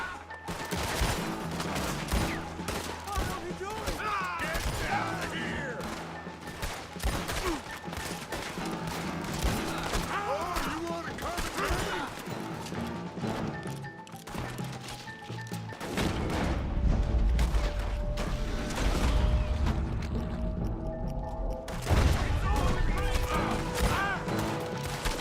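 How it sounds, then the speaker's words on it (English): Sustained gunfire in a Red Dead Redemption 2 shootout, with dense volleys of shots, crashes and booms that continue throughout, joined by spoken dialogue. "I'm shooting everybody."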